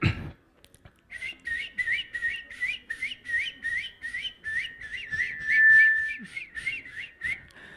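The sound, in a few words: person whistling imitating a bird call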